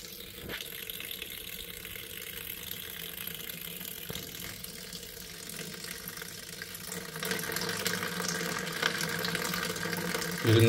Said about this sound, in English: With minimum amount of running water, this has to be done slowly